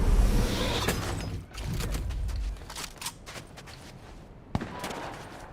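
Bursts of video game gunfire, a rapid sharp crackle of shots at moderate distance, alone with no talk.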